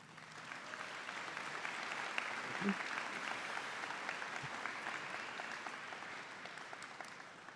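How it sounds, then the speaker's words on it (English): Applause from a graduation ceremony audience for the high school chorus, a broad, even wash of many hands clapping heard from a distance at low level for several seconds. "Another round of applause for them."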